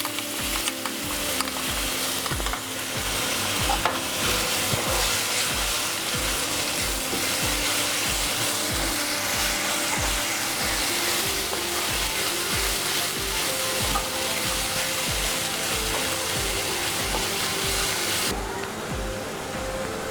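Blended masala paste hisses and sizzles as it is stirred into fried onions in a pan for Punjabi chole, making a continuous close-up frying sound with rhythmic scraping.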